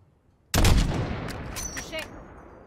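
A single sharp rifle shot from a Modern Warfare (2019) video game bursts out loud and close, fired at a target 600 metres away, then decays into a long rolling echo that fades over a couple of seconds.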